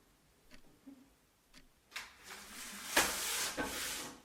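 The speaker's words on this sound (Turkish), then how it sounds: "şu saat sesinden nefret ediyorum ya" A clock ticking in a horror short film, with faint evenly spaced ticks soon swamped by louder hissing, rustling bursts.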